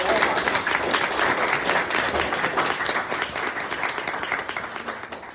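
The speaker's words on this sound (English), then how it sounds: "Let's give a round of applause for our speakers" Panel audience applauds its speakers at the close of a session, a dense, sustained wash of clapping from many hands that slowly thins and fades toward the end.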